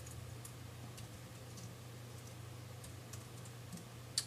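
Rapid light keystrokes on a Commodore 64 keyboard, typing a command to load a BASIC program, steady faint tapping over a constant low electrical hum, ending in a sharper key press.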